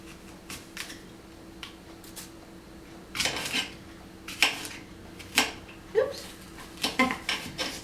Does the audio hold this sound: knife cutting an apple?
yes